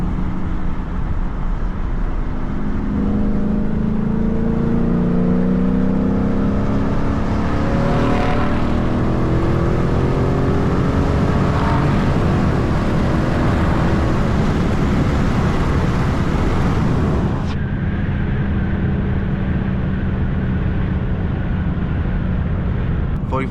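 A car cruising down a highway at night, with steady road and engine rumble, a few gear-shift surges, and voices talking over the drone.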